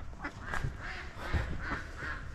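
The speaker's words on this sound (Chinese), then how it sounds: "你看，哎，这还有鸭子。" Ducks by a river in Jiulong town, Luoping county, Yunnan, giving a few quiet, scattered quacks and honking calls against faint outdoor background noise.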